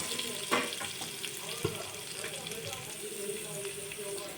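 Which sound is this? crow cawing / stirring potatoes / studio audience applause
stirring potatoes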